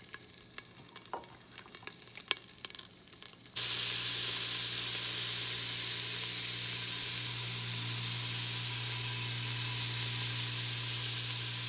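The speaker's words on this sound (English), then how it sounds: "There's nothing like onions and bell peppers, I'm telling you, sizzling on a skillet." A loud, steady sizzle of onions and peppers frying in a hot skillet kicks in suddenly after a few seconds of quiet clatter, then hisses on continuously.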